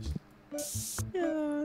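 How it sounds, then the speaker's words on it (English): An aerosol spray can hisses in bursts as it sprays a customer in the TCG Card Shop Simulator video game. The bursts are loud and close, with talking around them. "Spray the back of his stupid bald head."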